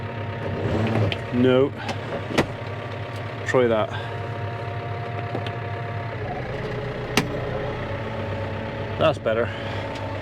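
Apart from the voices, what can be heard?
tractor engine revving while mowing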